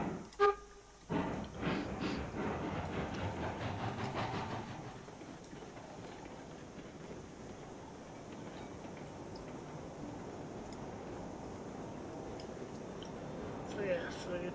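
A steam locomotive in the Railroads Online video game sounds a horn toot at the start, followed by a steady rumbling rail run.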